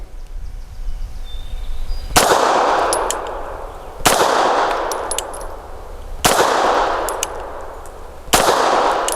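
Four loud, sharp pistol shots from a Bersa TPR 380 Plus firing Max Tech rounds, evenly spaced about two seconds apart, each followed by a brief ringing decay.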